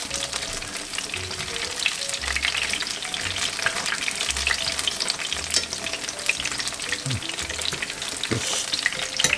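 Salmon fritters frying in a pan, a loud continuous sizzle and crackle of hot oil up close, steady throughout with occasional pops and no talking.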